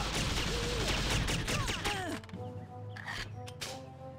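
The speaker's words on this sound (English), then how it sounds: "someone's shooting me" Gunfire in the GameCube shooter TimeSplitters: Future Perfect, a dense rattling burst of shots that stops abruptly halfway, followed by a few scattered sharper game effects.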